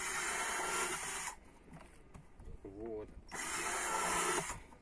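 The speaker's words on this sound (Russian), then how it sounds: "Пластик сегодня у нас нагрелся на солнышке, поэтому сверлится прям чудесно." A power drill bores a hole through a large sun-warmed plastic garden pot, whining loudly for a second or so, pausing while a person speaks briefly, then drilling again.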